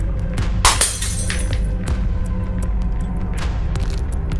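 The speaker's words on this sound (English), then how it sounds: "Sometimes the glass they were holding would slip from their hand." A drinking glass slips from a hand and shatters with a sharp, bright crash near the start, then scattered tinkling pieces over a constant low rumble.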